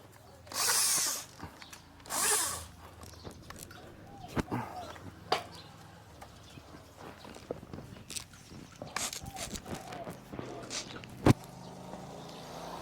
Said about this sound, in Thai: ใส่สว่านเลยครับ